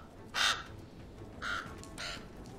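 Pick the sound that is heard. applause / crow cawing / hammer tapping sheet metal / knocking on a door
crow cawing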